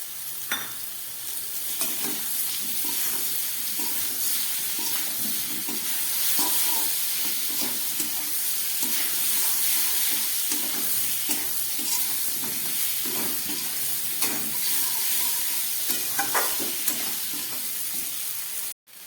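Pumpkin and potato fry in a pan with boiled chickpeas, producing a continuous hissing sizzle overlaid with repeated spatula scrapes and knocks before the sound cuts off abruptly at the end.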